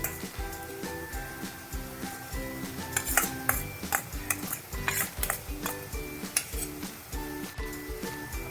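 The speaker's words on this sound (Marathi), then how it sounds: "आता हे सगळं ढवळून घेऊ" Wet cashew curry with salt and coriander stirred in a pot, Konkan home style, giving repeated scraping and clinking of a spoon against metal over a faint sizzle, steady and close, with music playing underneath.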